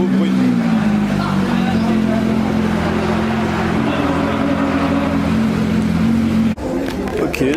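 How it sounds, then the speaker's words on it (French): Engine of a Porsche fitted with an Akrapovic exhaust, with carbon trim and bucket seats, at a Porsche Days event at Spa-Francorchamps, holding a loud steady drone for several seconds before cutting off abruptly near the end. "Avec l'échappement à Krapovic, ça fait un beau bruit."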